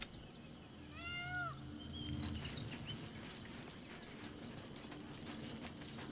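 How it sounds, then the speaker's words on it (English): A cat in the video game Baldur's Gate 3 meows loudly in one clear, rising-and-falling cry over a steady low ambient background, with faint clopping and bird sounds. "That cat's being pretty loud."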